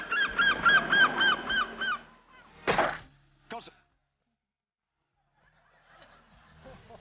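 A person imitates a seagull cry with a run of loud, rhythmic nasal squawks, followed by a short burst of laughter-like voice and a brief call, then near silence with faint background sounds.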